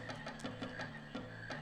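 Frogs croaking in a marsh in Final Fantasy 9, a quick series of soft, repeated croaks and chirps at a steady rhythm, moderately faint over a low ambient drone.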